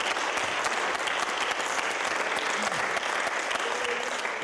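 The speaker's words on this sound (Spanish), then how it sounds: "Chavales, un aplauso para David." Studio audience applause in a Spanish talk show, a steady, even roar of many hands clapping that carries on unbroken from start to finish.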